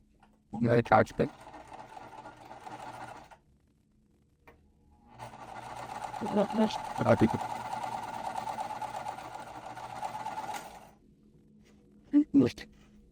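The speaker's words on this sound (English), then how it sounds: "I'm going to sew them both at the same time" A sewing machine hums through a long, even run while chain-piecing two quilt pieces at once, with a voice talking over it and brief clatters of handling before and after.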